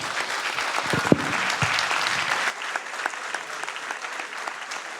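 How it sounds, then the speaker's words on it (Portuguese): A crowd at an investors' meeting claps enthusiastically and steadily, the applause thinning a little halfway through but continuing to the end. "Senhoras e senhores, palmas para Jorge Lima."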